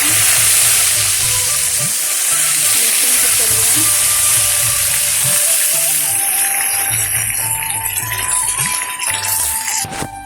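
Loud, continuous sizzling and spitting of cumin seeds and curry leaves in hot oil, with occasional clatter, the crackle gradually easing toward the end.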